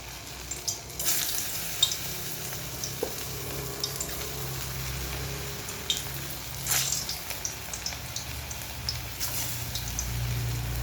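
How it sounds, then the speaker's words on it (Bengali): Chicken koftas fry in a pan with a constant crackling sizzle, scattered louder pops and spatters, and occasional scraping stirs, close and without talk. "এবার কোপ্তাগুলোকে ভেজে নেব।"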